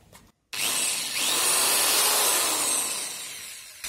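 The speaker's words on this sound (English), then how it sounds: "Let's make it bigger with a bigger drill bit." A handheld drill whirs steadily as a bigger bit enlarges a hole in a panel for a micro USB connector, starting abruptly after a short pause and grinding on close and loud for several seconds.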